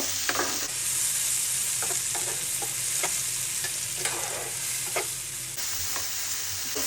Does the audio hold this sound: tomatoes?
yes